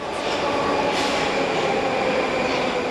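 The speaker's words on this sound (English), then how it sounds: "Back in Moscow on our train ride" A Moscow metro train rolls along underground, a steady loud roar of wheels and carriage noise filling the car with no speech.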